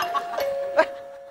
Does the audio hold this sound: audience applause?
no